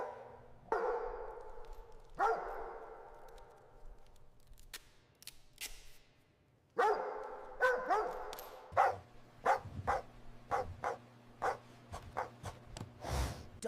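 Dogs bark in a video game, first a few spaced loud barks, then a rapid cluster of sharp yaps and barks closing the scene over a low background hum.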